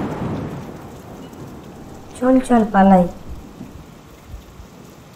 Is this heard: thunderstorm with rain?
yes